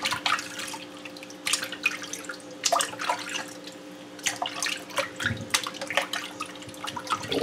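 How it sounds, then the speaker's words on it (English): Water splashing and dripping as fish are rinsed for a Jamaican recipe, with irregular wet clatters and drips over a steady background hum, fairly close and with no talk. "Wash them good."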